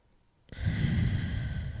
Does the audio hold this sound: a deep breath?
yes